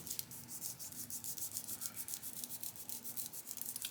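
A Halloween-themed mixed media product rubbed by hand onto a surface, a steady back-and-forth scrubbing in quick rhythmic strokes, close and soft, with no talking.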